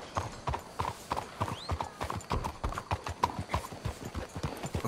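Steady clip-clop of horse hooves from horses ridden in Red Dead Redemption 2, a quick, regular hoofbeat rhythm that stays close and fairly loud throughout, with faint ambient game sounds beneath.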